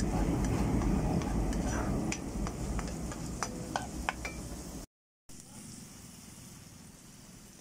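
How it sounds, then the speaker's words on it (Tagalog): Onions sizzle as they are sautéed in a pan for tuna pasta with creamy white sauce, a steady close frying hiss with scattered stirring clicks, then a brief cut and a quieter continuing sizzle. "Yan, gisa ko na yung sibuyas. Yung onion guys."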